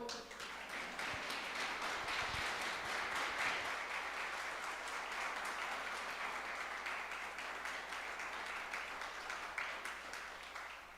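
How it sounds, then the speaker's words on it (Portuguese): Church congregation clapping for the Lord during a worship service, a steady, faint wash of applause sustained throughout with a low hum underneath. "Você pode aplaudir o Senhor?"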